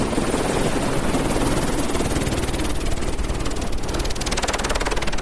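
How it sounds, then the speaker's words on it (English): A helicopter runs outside at close range, its rotor chopping in a loud, fast, steady beat over a continuous engine roar, with no voices. "so you can hear from the outside that it really was a helicopter and not a sound effects CD or something"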